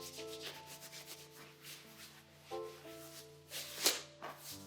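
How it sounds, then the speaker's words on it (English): Hands rub and flick down the body and legs during a creative dance session at home, giving soft, faint brushing swishes over a quiet sustained musical background, with one sharper brush near the end. "Let's give ourselves a rub"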